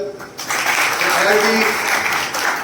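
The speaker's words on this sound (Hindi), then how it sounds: "इसके लिए ताली बजाओ" A crowd at a community program in Malegaon claps to welcome a young coaching-class teacher, a short, loud burst of applause starting after a brief pause, with voices mixed in.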